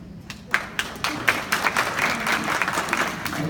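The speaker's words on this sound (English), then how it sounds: "That clapping was way too loud for me." A crowd claps and applauds loudly, a dense burst of many hands that starts abruptly and keeps going steadily.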